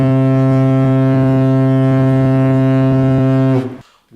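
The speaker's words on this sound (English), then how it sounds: "Can you tell me what a foghorn is?" A loud, deep foghorn blares in one long sustained tone for about three and a half seconds, then cuts off abruptly, leaving near silence.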